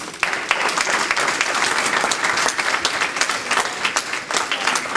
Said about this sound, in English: Let's give the Lord a hand clap offering.